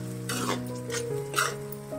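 Soaked beans tumble into hot tempering oil for a raw jackfruit dish, setting off a close, crackling sizzle with bursts of spattering and a few scrapes of stirring.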